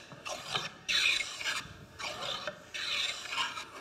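Wood edge being chamfered with a hand tool, giving repeated rasping strokes, about five close, even scrapes in a steady back-and-forth rhythm with no talk.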